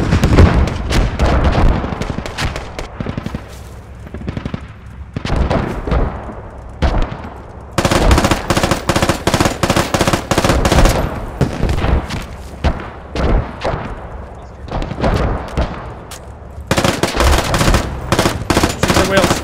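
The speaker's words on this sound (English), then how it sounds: "If you have a heavy machine gun who could pop the wheels." Heavy machine gun fire in the military shooter Squad, aimed at a vehicle's wheels: loud, rapid bursts of shots in repeated volleys, with other gunfire and battle noise between them.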